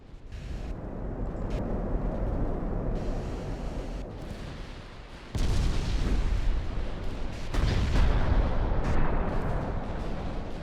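Battleship shells fired in naval combat in the game Ultimate Admiral: Dreadnoughts, heavy booming gunfire over a continuous rumbling roar, with a loud surge of blasts about halfway through.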